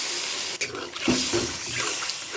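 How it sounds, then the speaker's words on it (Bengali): Water poured into a pan of simmering cauliflower curry: a steady, splashy rush with a heavier splash partway through, close and moderately loud over a background hiss. "কষানো হয়ে গেছে, এখন জল দিয়ে নেব। জল দিয়ে দিচ্ছি"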